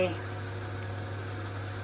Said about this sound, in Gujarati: વઘાર કર્યો છે દહીં માટે